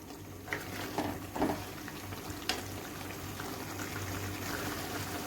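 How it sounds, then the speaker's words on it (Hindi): Potato and brinjal curry sizzles and fries steadily in a pan over a high flame, with occasional stirring clatters and pops breaking through a continuous hiss and a low hum behind it. "फ्लेम को हाई करके तो इसको मैं भून लूँगी"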